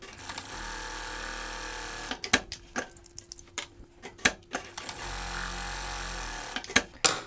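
A sewing machine runs two gathering seams on a child's shirt, with steady stretches of fast whirring stitching at the start and end separated by clicks, ticks and handling noises in the middle.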